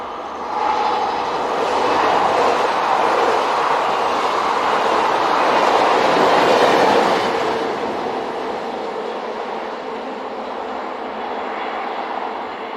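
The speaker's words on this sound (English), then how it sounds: "16641 returns, with its train bound for Laon." French electric locomotive 16641 hauls a passenger train bound for Laon, a loud, steady rumble and whine that swells as it draws near, peaks mid-pass, then eases off while still running on.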